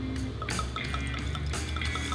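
Eagle Rare bourbon poured from a freshly opened cork-stoppered bottle into a glass, trickling and splashing in short liquid bursts close by, alone without talk.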